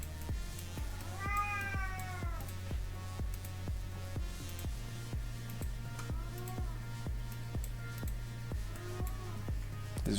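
A cat meows three separate times, drawn-out wavering cries that rise and fall, heard over a steady pulsing beat of background music.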